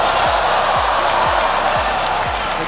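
Dense arena crowd roar from a ONE Championship MMA event at the Axiata Arena in Kuala Lumpur, a steady loud wash of cheering with a repeated low thudding pulse underneath, no clear voices.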